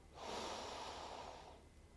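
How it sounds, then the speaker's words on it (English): A slow, deep inhale through the nose during a yoga session, one steady breath lasting over a second and then trailing off, close and alone. "Breathing in"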